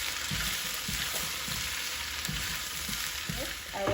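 Bora and tomato frying in a pan with a constant hissing sizzle, punctuated by a few soft scrapes of a spoon turning the mixture, fairly quiet and steady.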